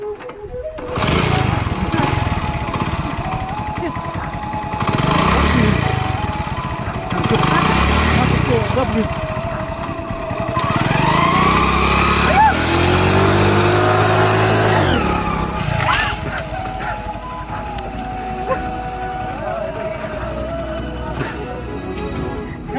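An old scrap vehicle's small engine runs and revs with a rough, sputtering mid-range drone, rising and falling in several surges, close by with people shouting over it.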